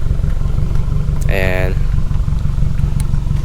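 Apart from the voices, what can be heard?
Subaru WRX 2019 with Remark Stealth Edition axleback exhaust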